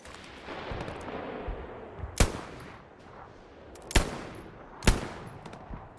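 Sharp rifle shots crack in the Hell Let Loose shooter on the El Alamein desert map at dusk, three distinct loud reports spaced apart over a low background of distant battle noise.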